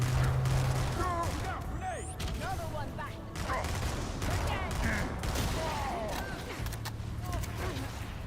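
A video game battle fills the scene with rapid, continuous gunfire. Bursts of shots keep up at mid-distance while voices talk over the shooting.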